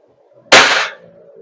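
A WE Glock 17 Gen 5 airsoft gas blowback pistol fires one sharp, loud crack, followed by a short hissing tail that fades quickly.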